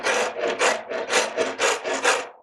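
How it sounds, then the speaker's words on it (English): A forty-year-old, worn Nicholson rasp files a wooden mandolin neck in about nine brisk strokes, each a close, loud, gritty scrape with brief gaps between. "This is about a 40-year-old Nicholson file, or rasp actually."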